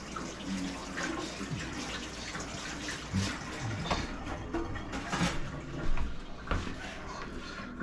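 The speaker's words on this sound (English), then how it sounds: "I gotta wash my hands first" Running water from a tap as hands are washed at a sink in a home kitchen, a steady broadband splash and gurgle with small clunks, fairly close, no voices over it.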